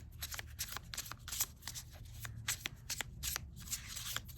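Tarot cards are shuffled by hand close up, a quick run of crisp riffling flutters and soft slaps repeating in uneven bursts, with no talking.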